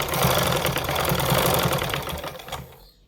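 A sewing machine runs steadily and close up, stitching the shoulder seam of a girl's frock, then stops abruptly near the end.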